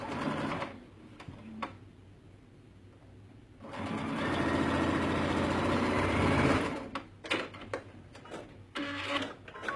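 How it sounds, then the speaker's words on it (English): A sewing machine runs straight along a garment seam at the shoulder dart line, a sustained close whirring of about three seconds between quieter handling noises and short clicks. "I'm just going to sew straight across, following that seam, or following the shoulder dart line"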